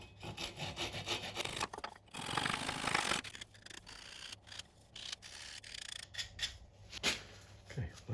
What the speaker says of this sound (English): I'll just quickly saw off these ends, give them a little sand, put some finish on,